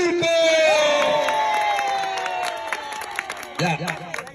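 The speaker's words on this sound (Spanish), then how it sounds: "Palmas y gritos para Yuriko." A family gathering erupts in a loud crowd of cheers, whoops and hand claps for one participant, voices shouting over each other with scattered claps continuing as the noise tapers off.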